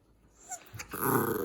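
A puppy growls while playing indoors: a few soft huffs and snorts build into a louder, raspy growl at the end. The growl sounds close, with no speech.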